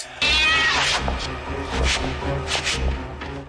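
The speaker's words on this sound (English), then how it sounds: "So that was the cat that came back to life" A loud, drawn-out cat yowl rises and wavers, close and harsh, with a few fainter cries following.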